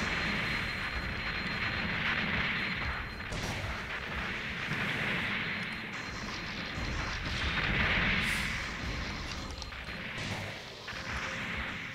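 Bazooka fire in the mecha video game Gundam Online, with booming artillery-like blasts and dense battle noise that stays loud and continuous throughout.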